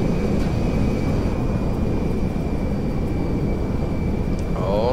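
A US Air Force C-5M Galaxy transport plane in the GTA 5 video game, its engines a loud, continuous, steady roar with a faint whine on top, heard alone.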